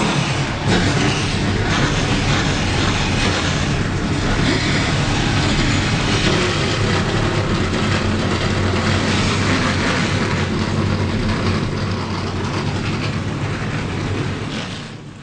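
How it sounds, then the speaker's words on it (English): A field of stock car engines rumbling at the start of a Daytona duel race in the game NASCAR Racing 2003, a loud, dense, continuous roar that holds steady and eases slightly near the end. "Drivers, start your engines"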